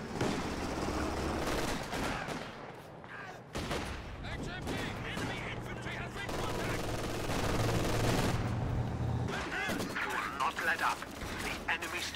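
Gunfire and artillery in a Company of Heroes strategy game battle, with steady rattling bursts and heavier booms running throughout while a commentator talks over the fighting.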